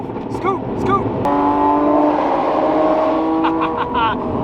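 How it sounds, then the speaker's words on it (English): A very loud Porsche GT3 RS on the road revs up into a sustained, harmonic engine howl close by, with brief vocal sounds just before it. "The loudest GT3 RS in the world."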